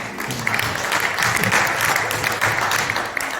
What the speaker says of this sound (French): est-ce qu'on peut applaudir aussi?